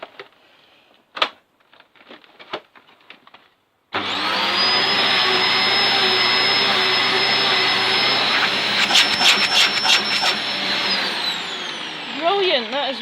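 A Dyson DC04 vacuum cleaner switches on after some handling noises and runs loudly and steadily during a suction test, a high whine over a dense roar, with brief fluctuations near the end.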